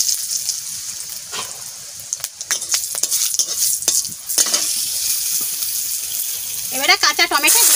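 Mustard seeds and dried red chillies sizzle and crackle in hot mustard oil in a wok, with steady frying hiss, scattered pops and stirring clatter, and a brief burst of higher sputtering near the end.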